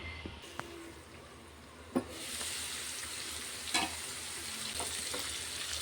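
Boiled broad bean pieces in a pan give a steady frying sizzle that swells after a couple of seconds, with a few sharp clanks of a lid or utensil, close by.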